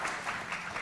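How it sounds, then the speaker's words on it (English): Applause from a conference audience at the close of a policy panel, a steady dense clatter of many hands that fills the short moment without any talk over it. "Audience, please join me in applauding them."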